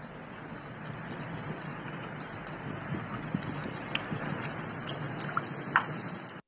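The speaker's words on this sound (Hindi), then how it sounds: "बेमौसम हुई बारिश ने किसानों की फसल भी नष्ट कर दी है।" Steady unseasonal rain falling in farm country with hail, a dense continuous hiss with a few sharper taps toward the end, moderately loud and with no voices.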